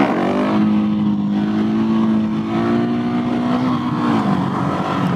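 A Husqvarna 701SM supermoto motorcycle rides at speed, its single-cylinder engine holding a loud steady drone close by, with a slight pitch shift near the end.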